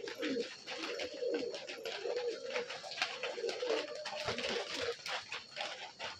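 A yellow-eyed male high-flying pigeon coos steadily in a loft, soft rolling calls repeating close by over a faint background of other birds and rustling.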